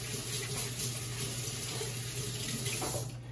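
Tap water runs steadily into a kitchen sink while someone washes their hands, a close, continuous splashing stream with no talking.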